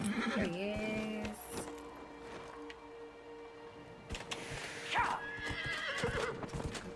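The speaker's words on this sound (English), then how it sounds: "I'm gonna get my horse." A horse in the video game Dragon Age Inquisition whinnies loudly several times over the steady clip-clop of its hooves, with a few sharper cries rising near the end.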